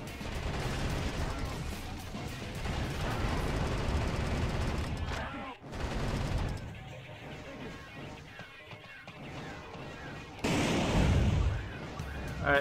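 Heavy gunfire and explosive blasts from the video game Metal Wolf Chaos XD as bombs are shot from a distance, a dense, loud barrage of rapid shots and booms running almost without pause, with a brief gap midway.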